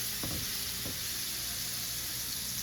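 Something melting and sizzling in a hot skillet while a simple dinner cooks, a steady close hiss with a couple of soft stirring knocks near the start.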